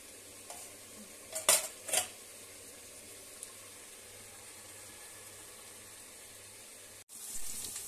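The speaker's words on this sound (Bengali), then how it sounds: "এখানে সজনে ফুল ভাজবো বলে যে আলু আর বেগুন ভেজে নিচ্ছি" Potato and eggplant pieces frying in oil, a steady low sizzle with a few sharp stirring clinks of a utensil against the pan early on, close and moderately quiet, no talking.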